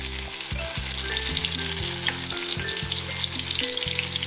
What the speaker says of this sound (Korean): 여기 가운데 부분도 이렇게 세워갖고 튀겨주세요